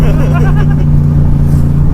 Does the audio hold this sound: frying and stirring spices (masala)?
no